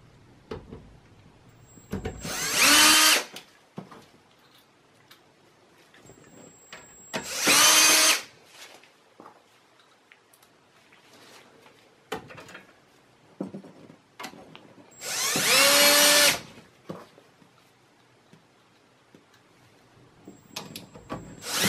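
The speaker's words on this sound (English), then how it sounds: "I'm gonna take the drill." A power drill whirs in several short, loud bursts during a desktop PC upgrade, separated by pauses filled with faint clicks and handling noises.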